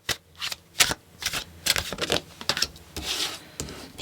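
A deck of tarot cards is shuffled close up in a run of crisp riffles and soft slides, about a dozen quick bursts across four seconds with brief gaps between them, and no voices.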